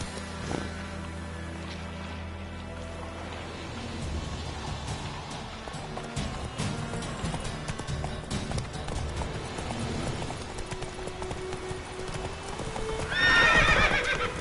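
A horse in a video game gallops with rapid, rhythmic clip-clopping hooves that run steadily for several seconds, then lets out a loud, close whinny near the end. Wind and faint background sounds sit underneath.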